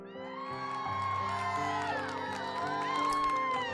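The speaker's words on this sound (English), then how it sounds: "The crowd applauded and cheered." A video game crowd cheers, applauds and whoops together, many overlapping voices rising and falling in a sustained, lively roar.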